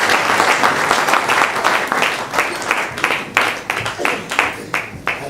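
Church congregation at a night worship service in Melun bursts into sustained, dense applause and clapping, loud and continuous with a few cheering voices mixed in.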